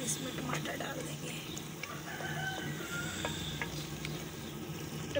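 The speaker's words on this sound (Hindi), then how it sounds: "प्याज और लहसुन अदरक की भुनाई कर ले अच्छे से।" Onion, garlic and ginger sautéing in desi ghee for a broccoli dish, giving a steady close sizzle throughout with a few light stirring scrapes, while a voice talks over it.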